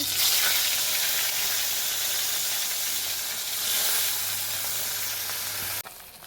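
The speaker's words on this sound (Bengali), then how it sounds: "তেল গরম হয়ে গেছে, মাছ দিয়ে দেবো।" Fish pieces land in hot oil in a wok with a loud, dense, continuous hiss and crackle that holds steady and close, then cuts off abruptly near the end.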